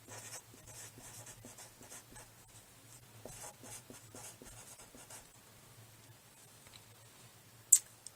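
A pen scratches steadily across paper while someone handwrites a definition, a soft continuous scribble of quick strokes, close and quiet with no talking, ending with a couple of sharper taps.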